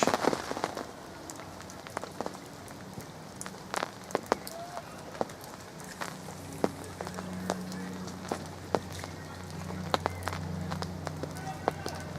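Steady rain pattering on a carp fishing lake, with scattered louder drops and taps over a constant wash; continuous and moderately close throughout, with no talk.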